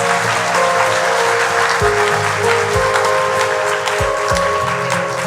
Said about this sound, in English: Let's give them a lusty round of applause.